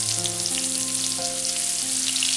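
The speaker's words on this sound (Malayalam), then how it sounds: "ചിക്കൻ ഒരു മുക്കാൽ വേവ് ആകുന്ന വരെ ഇതൊന്ന് വറുത്തെടുക്കണം." Chicken pieces for a dum biriyani frying in hot coconut oil, a continuous dense sizzle with a steady crackle, close and even throughout, no speech.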